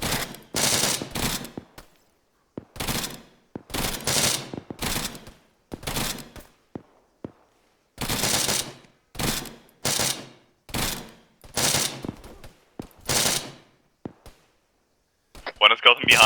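Bursts of video game machine gun fire during an aerial combat mission come in repeated short volleys with gaps of silence between them, fairly loud and close.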